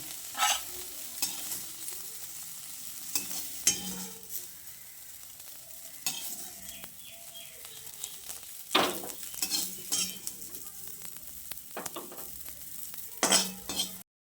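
Oil sizzles softly in a pan while a utensil scrapes and taps against the metal now and then, lifting fried soybean chunks out.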